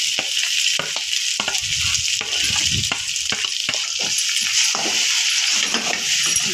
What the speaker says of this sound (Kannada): ಸ್ವಲ್ಪ ಎಣ್ಣೆ ಒಳಗೆ ಫ್ರೈ ಮಾಡ್ಕೊಳ್ತೀನಿ.